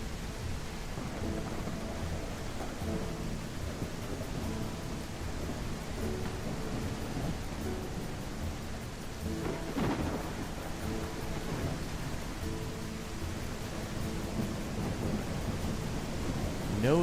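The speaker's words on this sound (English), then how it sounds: "Wow, what an absolute downpour." Downpour in a medieval city-builder game, a thick steady wash of rain with rolling thunder swelling midway, over faint game music tones.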